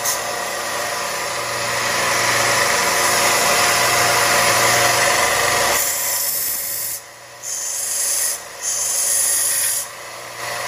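A belt sander grinds silver inlay jewelry with a loud, continuous abrasive whir and rasp, then the pitch drops as the piece is lifted off and pressed back in short intervals.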